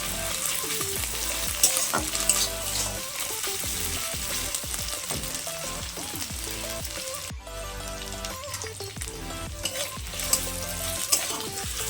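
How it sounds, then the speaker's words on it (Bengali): Chopped ginger and garlic fry in oil over medium heat, giving a steady, dense sizzle close by with scattered crackles and a brief stir partway through, and no one speaks. "একটু মিডিয়াম আঁচে এগুলোকে ভালো করে ভেজে নিতে হবে।"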